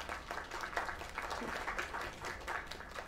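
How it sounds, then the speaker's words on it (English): Audience applause after a singer's performance, a steady dense wash of clapping from a crowd, fairly loud and sustained throughout. "Another round of applause."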